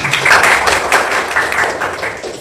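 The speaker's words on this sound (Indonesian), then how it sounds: "tepuk tangan untuk Satya" A classroom of students claps for their classmate Satya, a brisk burst of many hands close by, dense and lively before it thins out toward the end.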